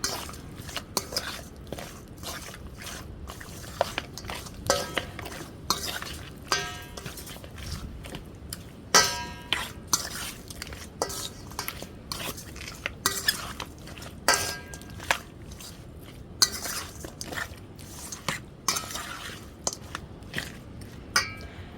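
Seasoning is worked into meat for Jamaican curry goat, heard as irregular clinks and scrapes of a utensil against a pot over a faint background, with no one speaking.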